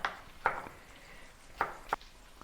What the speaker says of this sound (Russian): Все я режу на кубики.